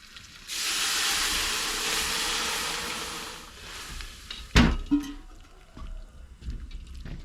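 Diced pumpkin hits a hot pan of oil and softened onion, setting off a broad, bright hiss that holds for about three seconds and then fades, followed by a clattering knock and small kitchen noises.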